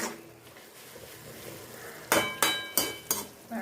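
Fried potatoes are stirred into fenugreek greens in a pan, and a utensil scrapes and clinks against the metal four times in steady strokes over a soft background hiss.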